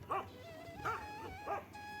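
A chained dog in a Himachal mountain village barks three times in evenly spaced, moderately distant yelps over a steady background tone.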